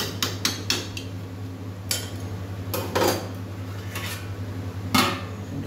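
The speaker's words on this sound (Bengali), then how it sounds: "কড়া সোজা করে বসে এবারে ঢাকা দিয়ে দেবে ভালোভাবে সেদ্ধ হয়ে যাওয়ার জন্য।" A metal wok of cooking chicken getting its lid, a series of sharp close clanks and knocks of metal on metal at irregular intervals over a low steady hum, no talking.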